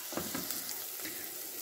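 Onion sautéing with salt in a pan for mutton liver and lining fat soup gives a steady, close hiss of sizzling, with faint stirring or scraping touches and no voices.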